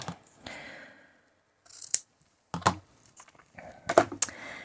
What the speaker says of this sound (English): I'm going to cut a length of that off with some scissors over here.